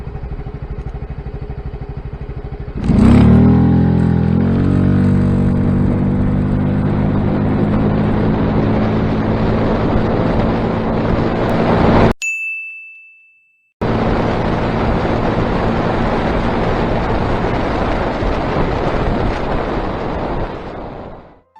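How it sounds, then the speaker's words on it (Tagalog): A Yamaha Mio Gravis scooter fitted with an iridium spark plug, ferrite beads and an open airbox cover revs up loudly, holding a steady droning engine tone. A brief dropout interrupts it midway, then the same sustained engine noise continues. "Acceleration test 2 with Iridium spark plug, ferrite bead at air filter cover change."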